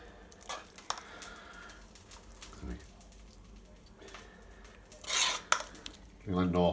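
Mushroom risotto is served from a pan onto a plate, with soft scrapes and sharp clinks of a utensil against cookware at scattered moments. A brief voice is heard near the end.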